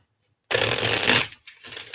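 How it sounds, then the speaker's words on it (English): A deck of cards is riffled and shuffled for a card reading: one long crisp burst of fluttering cards, then a short pause and a few softer riffles, close up and with no talk. "Maybe shuffle up a couple more times."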